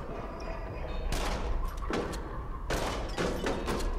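Gunfire in the VR shooter Rush of Blood, a couple of bursts of loud sharp shots in quick succession separated by a brief lull, over a rumbling game background.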